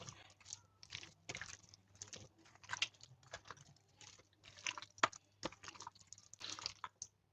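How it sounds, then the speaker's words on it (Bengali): Wet, squelchy handfuls of spice paste being worked by hand into raw duck meat, a close, quiet series of irregular sticky pats and squishes with no talking. "এখন আমি সব মশলা খুব ভালো করে হাতে মেখে নেব মাংসের সাথে"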